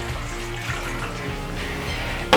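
Water pours steadily into a pot to start a brine for pepperhash and coleslaw, a close continuous rushing splash that ends with a brief sharp clunk.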